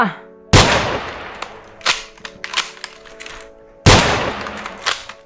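Toy Kar98k rifle fired twice, each shot a sharp loud crack several seconds apart, with lighter clicks and rattles of handling between them.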